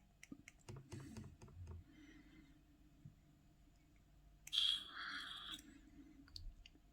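Sharp, close plastic button clicks on an Ohmbrew Innokin Switch vape device, several quick taps clustered at the start, then a short hissing burst a few seconds later, with no voices.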